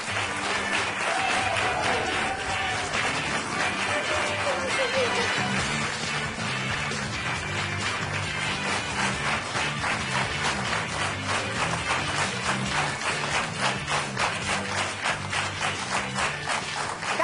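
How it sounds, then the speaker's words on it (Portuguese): A studio audience claps at a daytime television show as doctors come on, steady dense applause that keeps going without a break, with music audible underneath at first. "Um forte aplauso para os doutores do Boa Tarde."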